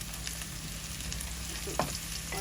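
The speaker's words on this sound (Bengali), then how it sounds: "আমাদের পেঁয়াজ ভাজা হয়ে গেছে রসুন দিয়ে দিচ্ছি" Garlic tossed into a pan of frying onions, cooked for a river fish and potato bhuna, gives a steady close sizzle with a couple of sharp spoon scrapes near the end.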